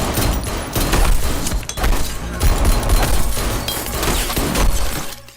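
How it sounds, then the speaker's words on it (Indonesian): Loud, dense gunfire erupts during an action shootout between robbers and police, with rapid shots, crashing, and shattering glass-like bursts that fill the whole stretch almost without pause. "dengan cepat Jacob segera keluar sambil melepaskan tembakan"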